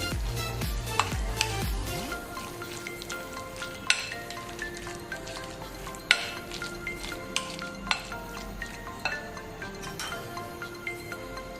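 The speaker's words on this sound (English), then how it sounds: "We'll mix this all together nicely" A spoon stirs and scrapes a tuna canapé filling in a bowl, with scattered clinks and taps against the sides in an irregular rhythm, close and fairly quiet.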